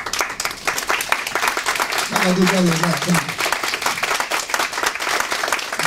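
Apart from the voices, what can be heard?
audience round of applause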